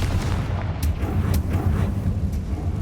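A Confringo blasting spell exploding in the Hogwarts Legacy video game, a dense rumbling boom with a few sharp crackling bursts, loud and sustained with no talk over it.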